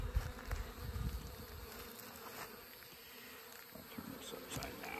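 Honey bees swarm and buzz steadily around a freshly opened hive, a constant close drone of many wings with soft rustling, no talking.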